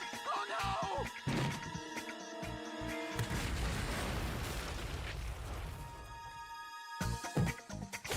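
Cartoon crashes and booming bursts from a Family Guy video game where tomatoes explode, loud, dense and chaotic, with musical tones and effects layered over the impacts.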